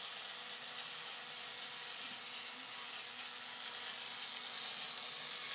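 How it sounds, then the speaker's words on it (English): A handheld drill runs steadily throughout as a continuous loud whir, with no voices over it. "Is that a drill?"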